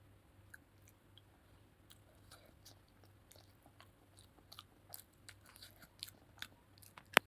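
Someone eats mashed boiled potato close up, with faint, soft, wet chewing and occasional small clicks over a quiet background hum.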